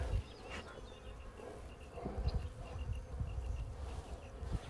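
Honeybees from a nuc hive being installed on a farm hum in a steady, close swarm drone, with occasional louder buzzes of individual bees passing near.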